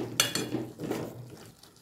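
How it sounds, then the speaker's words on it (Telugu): Fresh coriander stirred into a tomato, tamarind, sesame and dried red chilli chutney in a pan: a soft scrape of a spoon with a couple of faint clinks against the pan, quiet and close, with no talk. "ఇలా కొత్తిమీర వేసుకొని కలుపుకోవాలి"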